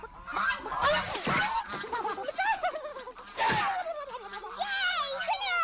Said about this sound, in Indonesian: Angsa kejar baru tahu.